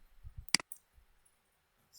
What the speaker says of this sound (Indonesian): Kita langsung klik send atau kirim.